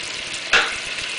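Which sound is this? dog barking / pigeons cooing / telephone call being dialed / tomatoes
tomatoes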